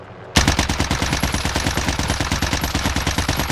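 C58 rifle fired on full auto in Call of Duty: Warzone during a recoil test, a loud, steady, rapid stream of shots starting abruptly after a brief quiet moment and continuing unbroken.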